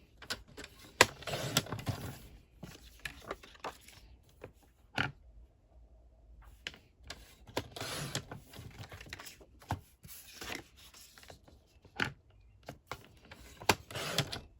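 A paper trimmer slices through chipboard pieces for a mini album, producing a series of sharp, separate cutting strokes and mechanical clicks with short quiet gaps between them, close and moderately loud.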